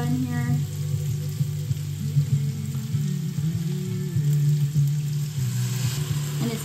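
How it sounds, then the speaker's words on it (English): Garlic and onion sauté in butter with salt, pepper and garlic powder, a steady close sizzle under a low hum with occasional stirring scrapes, no speech. "I'm sauteing garlic, onion, butter, salt and pepper, garlic powder"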